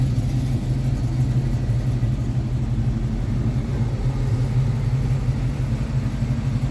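A 1986 Chevrolet K10 Silverado 4x4 pickup engine idles with a steady low rumble, close and continuous, without speech.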